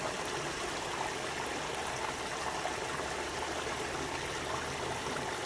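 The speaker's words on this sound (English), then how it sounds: "the stream again is going around the debris" A small mountain stream on a hike to Mirror Lake flows around a dam of debris, giving a steady, close, broadband rush and trickle of water that stays even throughout, with no voices.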